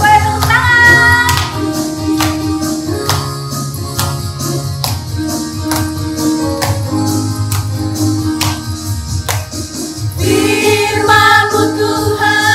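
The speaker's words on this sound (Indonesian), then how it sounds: "Cuma boleh tepuk tangan." A group claps along with a praise song at a children's Sunday school worship service at an HKBP church in Tangerang, steady rhythmic claps sitting under loud accompanying music throughout.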